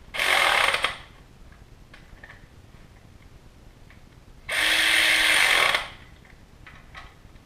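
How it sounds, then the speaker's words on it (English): Two loud bursts of a power ratchet or impact tool tightening rocker arm assembly bolts on a K series engine, each roughly a second long and separated by a quiet pause, with faint clicks in between and no talking. "I'm going to go ahead and tighten it down in the sequence again and see if it levels out"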